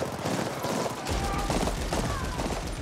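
Video game gunfire crackles in a dense burst of rapid shots with louder thumps after the first second, continuous and close.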